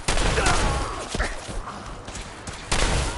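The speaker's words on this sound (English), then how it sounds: "some covering fire over here!" Covering gunfire in a video game, a dense burst of shots and booms that fades into scattered thuds and then swells again near the end, loud and continuous, with no speech.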